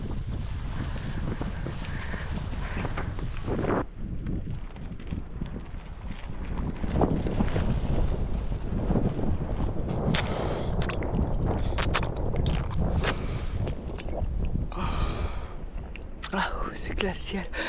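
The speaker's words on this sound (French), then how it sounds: "Un plein vent de face." Strong, icy headwind roars and buffets the microphone in a constant low rumble while gravel cycling in a forest, with a person talking and exclaiming under it.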